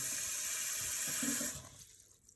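Tap water running steadily into a pot for boiling eggs, a close hissing splash that stops abruptly as the faucet is shut off, leaving quiet kitchen sounds.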